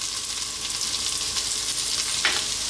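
Garlic ginger paste sizzles steadily in a hot frying pan for a vegetable soup, a continuous bright hiss with a brief stir-like flare near the end, no voices.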